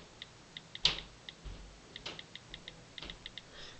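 A password typed on an iPod Touch touchscreen keyboard: a quiet, even run of short, light tapping clicks, close and steady, with a few louder knocks among them and no talking.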